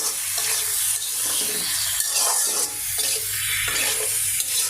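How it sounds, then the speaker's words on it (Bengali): Egg frying in a pan, a dense, close sizzle with spattering and crackles, pulsing slightly as it is stirred or moved, and no talking. "আর ডিমটা রান্না করব ভেজে।"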